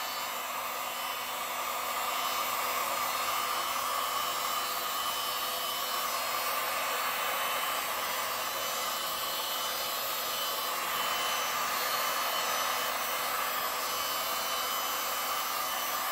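A heat gun blows steadily over resin on a galaxy painting, making a constant close whooshing hum of hot air that runs unbroken throughout with no voices.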